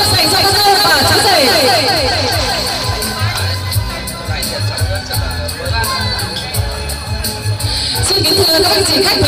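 Wedding guests give the bride and groom a big round of applause, a dense, loud wash of clapping and crowd noise mixed with cheering and chatter that runs steadily throughout.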